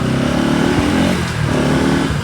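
Loud, close engine noise from a Bajaj Pulsar NS200 motorcycle being revved, rising and falling in a continuous roar with no voices.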